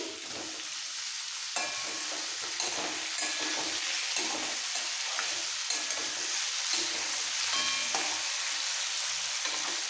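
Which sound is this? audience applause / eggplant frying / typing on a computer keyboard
eggplant frying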